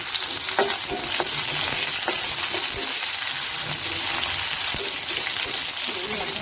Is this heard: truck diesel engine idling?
no